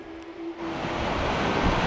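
Ocean surf on the Hokkaido coast rushes in as a wave breaks and builds into a loud, broad roar of churning water. It starts with a brief low tone and is mixed with wind buffeting the microphone.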